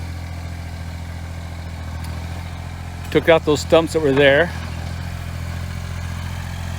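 Small Kubota tractor engine running steadily at a low, even idle while stumps are cleared, heard continuously from mid-distance as someone talks briefly over it.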